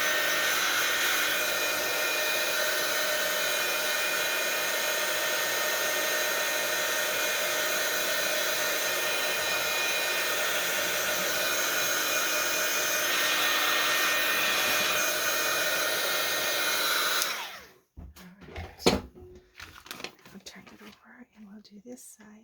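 A hair dryer quickly dries an altered journal page, blowing as a loud, steady whoosh for about seventeen seconds, then cutting off, followed by quiet handling noises and soft speech.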